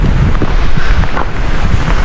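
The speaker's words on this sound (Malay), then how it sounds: "Dia punya bunyi angin tu" Steady, loud wind buffeting the microphone with a low roar in winter in Korea, sounding a bit like rushing water, continuous throughout with no voices.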